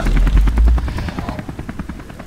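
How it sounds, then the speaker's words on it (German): Helicopter in the Beyond: Two Souls video game, a loud low rotor thump with rapid regular beating that stays steady throughout, slightly easing after the first second, with no talk over it. "Was ist denn jetzt mit dem Hubschrauber?"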